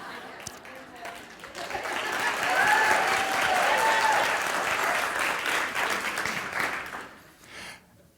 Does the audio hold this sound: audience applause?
yes